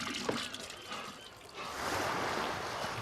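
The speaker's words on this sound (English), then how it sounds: "Like you can hear the flushing sound and everything." A toilet flushes in the video game No Man's Sky, a quiet rush of water that swells after a brief pause into a steady, fuller gushing wash.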